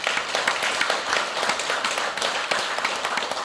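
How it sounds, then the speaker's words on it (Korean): An audience claps after a humanities lecture at a temple event, a dense, continuous patter of hand claps filling the room at a steady level. "박수 부탁드리겠습니다"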